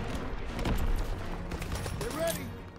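Dense battlefield gunfire in Call of Duty: WWII, a continuous rattle of shots and booms, loud and chaotic, with voices shouting over it.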